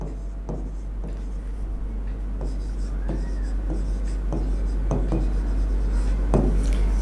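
Chalk or marker writes on a board during a chemistry lesson on close-packed solid-state structures, making close scratchy strokes in a loose rhythm over a loud steady electrical hum.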